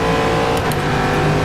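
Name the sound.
Corvette C7.R race car engine at Sebring, rFactor 2 video game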